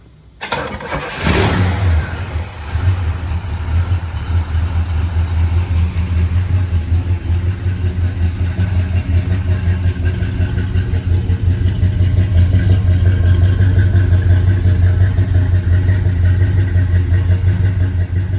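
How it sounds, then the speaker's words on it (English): A 1964 Pontiac Lemans 400 V8 cranks and fires up loudly on a cold start, then settles into a deep, steady rumble that swells slightly with light revving, close by. "We're going to do a cold start here for you."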